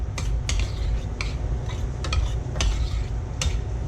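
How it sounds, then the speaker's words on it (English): Black beans being stirred together with fresh cilantro in a bowl, giving soft scraping clinks and light mixing taps at close range over low kitchen background noise, with no voices. "we're going to add the cilantro. Just an amount that looks good, right? Good coverage. And then we're just going to mix that up."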